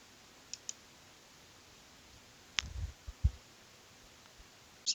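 A few faint, sharp clicks of a computer mouse on a Lenovo laptop running Windows 11, scattered among light desk noise in an otherwise quiet room.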